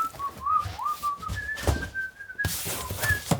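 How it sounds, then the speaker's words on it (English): Someone whistles a melodic tune up close, clear sliding and sustained notes with brief pauses between phrases, over light handling noises. "can't whistle any more of that, I'll get copyrighted"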